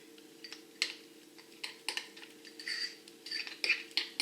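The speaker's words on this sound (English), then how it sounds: "And then I just grab a spoon and stir it up" A spoon stirs clumpy oats with water in a bowl, giving quiet irregular clinks and scrapes against the sides in uneven bursts, close and soft.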